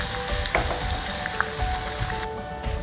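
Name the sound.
frying garlic in oil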